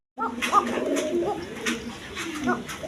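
An Arabian Coca pigeon at a pigeon farm gives soft, repeated throaty coos that run continuously at moderate volume and close range, with faint background noise.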